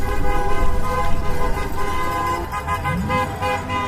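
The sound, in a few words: car horns honking as cars drive by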